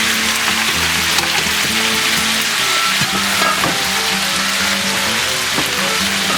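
Pork ribs and sausage fry in a pan for a Sicilian meat sauce, giving a loud, dense, steady sizzle with occasional pops and a low background hum.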